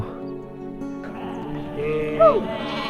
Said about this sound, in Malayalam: കുറേ ആടുകൾ, എന്ത് ഭംഗിയാ നോക്കി കാണാൻ വേണ്ടി